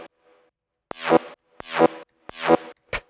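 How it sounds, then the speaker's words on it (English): Short wavetable synthesizer stabs in a hard house style: three bright, rising chord hits spaced about two-thirds of a second apart, each with a sharp attack, followed by a final clipped stab. "Then we got this little wavetable stab."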